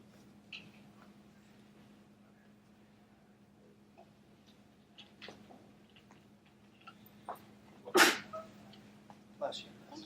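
A single sharp sneeze bursts out during a quiet indoor meeting, loud and brief against a low steady hum, with scattered faint talk and small noises around it.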